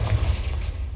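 Confringo blasting spell from the video game Hogwarts Legacy going off as a deep, rumbling boom that fills the second with low roar and a hissing wash, without any voices.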